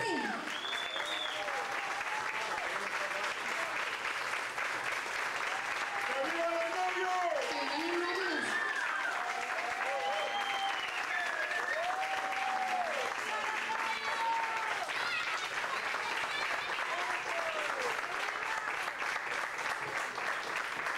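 Wedding guests applaud the newlyweds in a steady, sustained round of clapping lasting the full span, with cheers and whoops rising above it and some talking mixed into the crowd noise.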